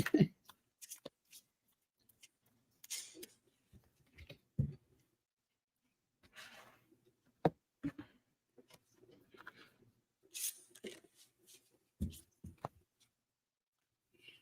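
Large cards being shuffled by hand, with irregular bursts of riffling, flicking and sliding, close up and separated by brief pauses and soft taps.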